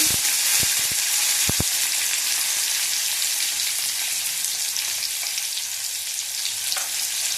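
A tomato sizzles in hot oil in a frying pan while cooking chana dal. A few sharp knocks of utensils come at the start, then a steady, close, loud frying hiss continues throughout.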